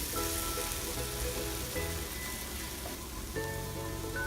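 Minced garlic and thyme sizzle gently with leeks in a pot over low heat, a faint, continuous crackle resembling light rain, with no voices over it.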